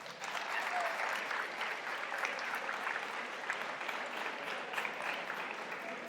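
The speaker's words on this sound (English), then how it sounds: "Give them a round of applause." Sustained applause from an audience at a high school athletic awards ceremony in a gym, a steady, fairly distant clapping wash lasting several seconds with no talk over it.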